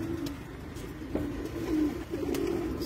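Blue-eyed pigeons of an old breed coo on a rooftop, giving a run of soft, rolling coos that rise and fall at moderate distance.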